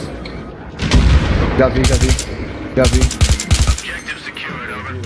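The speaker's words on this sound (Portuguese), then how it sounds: "Tô ouvindo tiro, viu?" Gunfire in Battlefield 3 rattles in two loud, close bursts of rapid automatic shots, with a single brief voice spoken between them.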